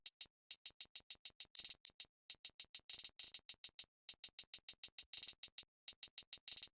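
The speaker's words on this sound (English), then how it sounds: "using another one out of Pierre-Bourne's drum kit, Hi-Hat 5. Here's what that sounds like" Hi-Hat 5 sample from Pierre Bourne's drum kit playing alone in a trap-style pattern, crisp bright ticks in fast steady runs with quick rolls and brief gaps, with no other instruments.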